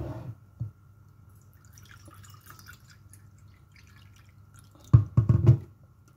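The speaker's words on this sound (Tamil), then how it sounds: "1 glassில் 3¼ cup வாட்ரு ஊற்ற போகிறேன்" Water poured from a glass into a cooking pot for pongal, with a faint drip early on and a short burst of splashing pour near the end in a quiet kitchen.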